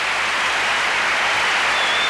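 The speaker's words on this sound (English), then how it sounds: "This huge crowd enjoying that spirited performance from the All-Stars Lorna, Wighton, and John Dowing." Large arena crowd applauding a 1982 professional artistic figure skating performance, a dense, continuous roar of clapping with no gaps.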